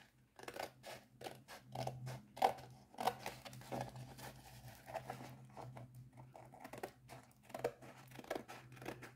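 An ordinary pair of scissors cuts through a diamond painting bag or sheet with quick, close, crisp snips in an uneven rhythm, alone and fairly quiet.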